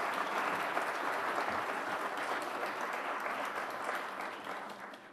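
A lecture-hall audience at a nanoelectronics workshop claps steadily and warmly for a guest professor, a dense even wash of applause that tapers slightly at the end, with no speech over it.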